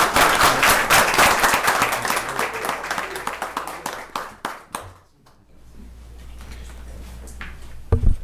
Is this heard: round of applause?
yes